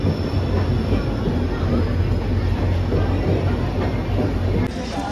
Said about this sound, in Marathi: सो चला, आमची ट्रेन येते,